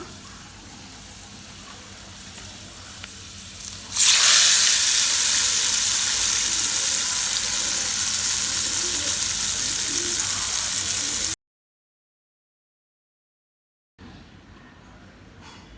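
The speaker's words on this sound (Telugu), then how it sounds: "తాలింపు వేసుకున్నాం కదా, అది మాగాయ పచ్చడిలో పోసి కలుపుకుందాము." Hot oil tempering hits mango pickle with a sudden loud sizzle that hisses steadily for several seconds, then cuts off to silence.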